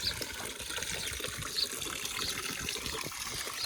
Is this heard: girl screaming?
no